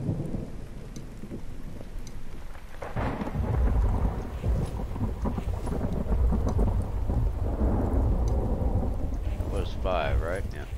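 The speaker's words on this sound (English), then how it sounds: "There's our first rain." Steady rain and rolling thunder in a survival video game, beginning with a loud crack and continuing as a dense, constant downpour with deep rumbles throughout.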